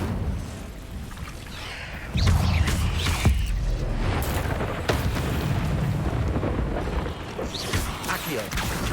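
A fire spell cast in a Harry Potter wizarding video game erupts with a loud whooshing burst and rumbling crackle around the two-second mark, followed by sustained roaring and creaking effects with a few sharp thuds.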